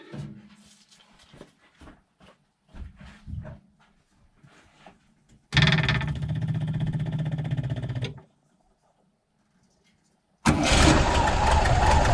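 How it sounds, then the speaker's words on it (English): A VW bus fuel pump's steady mechanical whirring hum switches on for about three seconds and stops, then starts again loudly after a pause, following some quiet shuffling. "the fuel pump kind of hammering away for about 3 seconds, and then it turns off"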